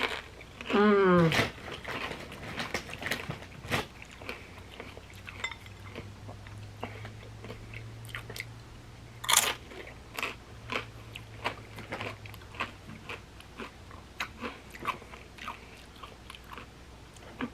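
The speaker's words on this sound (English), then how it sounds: "I'm gonna have some guacamole chips. I'm gonna have them in the salsa." Crunchy tortilla chips eaten with guacamole and salsa, with repeated close crisp bites and chewing, light clinks of dishes, and a voice speaking briefly at the start.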